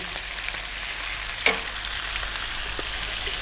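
Ginger garlic paste and fresh chilies fry over medium heat for a lamb curry, giving a steady, close sizzle throughout with one brief clatter midway as the pan is stirred.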